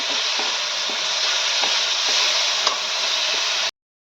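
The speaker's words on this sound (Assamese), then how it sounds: "এইখিনি 10-15 মিনিট কণ্টিনিউৱাছ ভাজিব লাগিব" Steady, close sizzling of sago frying in hot oil, a dense bright crackle with faint occasional clicks, continuing evenly before cutting off abruptly.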